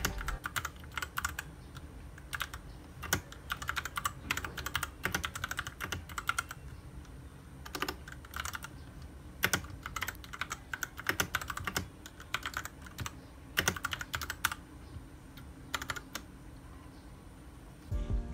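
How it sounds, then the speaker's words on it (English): Rapid, irregular clicking of keys on an external keyboard used for typing notes with an Android phone, steady bursts of close, crisp taps throughout with no talking. "An external keyboard like this can also be used to type in your notes."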